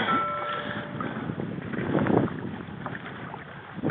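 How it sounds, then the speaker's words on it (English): Wind buffets a boat rolling in side swells, producing a steady, close rush of wind noise against the microphone, with water sloshing and boat creaks underneath throughout. "Damn wind's coming around."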